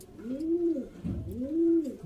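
A Kamgar pigeon coos twice close by, each a low, rolling, throaty call swelling and fading, with a brief pause between.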